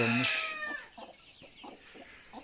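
Village chickens: a loud crow-like call opens, followed by a series of soft, scattered clucks nearby in a quiet farmyard.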